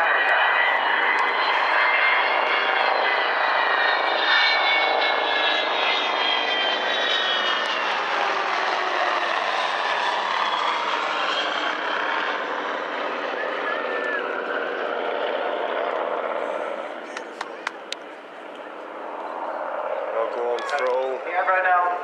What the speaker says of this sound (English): The Vulcan is flown by Phil O'Dell, and the captain of the aircraft is actually Ken Rubens. And here we come